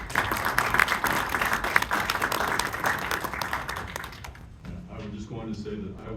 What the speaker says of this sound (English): let's give all women a round of applause